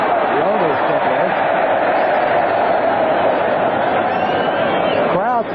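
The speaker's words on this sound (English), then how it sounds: "The crowd seems to be cheering the reduced seconds on the clock." Stadium crowd at a 1982 NFL football game between the Cardinals and Redskins, a loud continuous roar of cheering and crowd noise filling the whole stretch, with faint whistle-like tones near the end.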